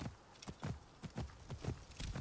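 Hooves of a ridden horse clop in a steady walking rhythm in the video game Assassin's Creed Origins, soft and evenly paced, about eight footfalls with no talk.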